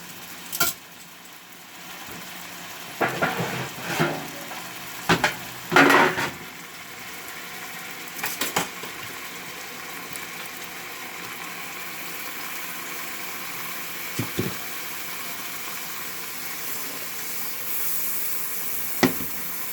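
Marinated moose meat getting a quick sear in a hot pan, a continuous moderate sizzle with a few scraping and clattering utensil sounds early on.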